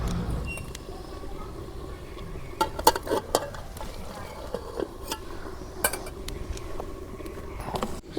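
Tomato and potato being sautéed together in a pan, with sharp intermittent clinks and scrapes of a utensil against metal over a soft, low background sizzle, close and irregular.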